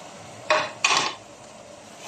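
Raw potatoes dropped into a cooking pot holding marinated fish, giving two quick clattering thuds about a third of a second apart, close and fairly loud, in an otherwise quiet kitchen.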